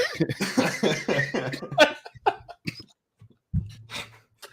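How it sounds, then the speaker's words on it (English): A person coughs several times in a rough, hacking burst, followed by scattered quieter coughs and breaths. "I'm still not over this COVID cough crap"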